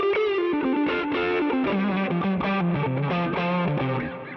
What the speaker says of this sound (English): adding that second overdrive pedal in really helps add that heavy fuzziness to round out the tone